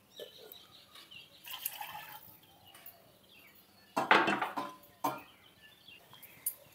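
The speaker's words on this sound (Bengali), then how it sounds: "তার জন্য এখানে আমি 2 কাপ দুধ দিয়ে দিচ্ছি।" Milk being poured into a pot for tandoori chai, a short, splashy liquid burst that rises sharply and fades within about a second, then a couple of lighter knocks and drips against a quiet kitchen background.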